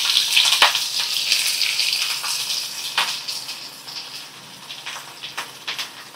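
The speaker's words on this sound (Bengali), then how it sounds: "এবার আমি কুচানো পেঁয়াজ দিয়ে দেব।" Chopped onion crackles and sizzles in hot oil with browned cumin seeds, a steady close frying hiss with small pops and bursts throughout, no talking.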